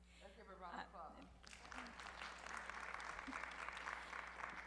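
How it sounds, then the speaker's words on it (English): An audience at a community town hall breaks into applause after a brief voice, the clapping swelling and holding steady for several seconds at moderate distance. "Let's give her a round of applause"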